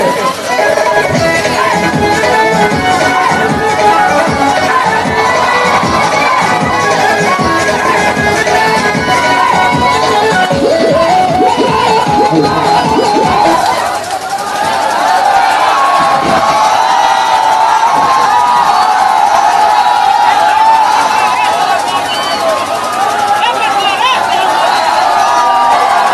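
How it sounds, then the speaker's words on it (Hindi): Dense, loud crowd cheering and shouting fills an outdoor orchestra dance show at a Durga temple ground, a continuous roar of whoops and yells with a brief dip midway before surging back. "जोरदार ताली हल्ला बजा कर कीजिए"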